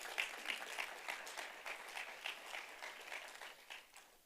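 A church congregation claps quietly during a Sunday morning service, a light, uneven patter of hands with individual claps standing out, soft and somewhat distant.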